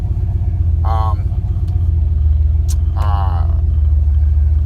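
A car engine idles roughly and labors under a low battery, a loud continuous low rumble with a faintly uneven pulse, while two short bursts of voice rise over it.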